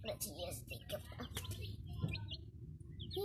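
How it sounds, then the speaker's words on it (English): Chickens kept as pets cluck and chirp softly at a distance, with faint bird calls under a voice talking nearby. "Here, there are chickens."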